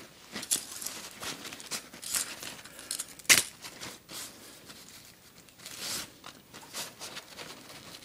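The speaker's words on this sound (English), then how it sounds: "Get out our handy dandy measuring tape. Measure out 18 inches." A metal measuring tape is pulled out and handled while measuring duct tape for a keychain, making scattered short zips, clicks and rattles, with one sharp snap in the middle, all close and fairly quiet.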